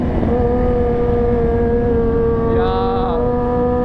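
A purple sport bike's engine holds a loud, steady drone, then revs up briefly near the end, heard up close.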